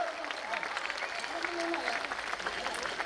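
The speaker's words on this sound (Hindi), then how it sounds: "जोरदार ताली बजाओ यार" An audience at a Hindi comedy poetry gathering claps moderately over the whole stretch, with a voice heard along with it.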